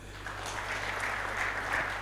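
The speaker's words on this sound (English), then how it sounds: "So clap for yourself." Moderately quiet applause from graduates and guests at an awarding ceremony, a continuous patter of hands over a low hum.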